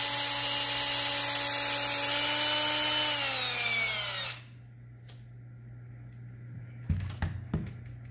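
A power drill spins a hone inside a brake master cylinder from an International pickup, giving a loud close whir that winds down after about four seconds, followed by a few sharp clicks and light knocks.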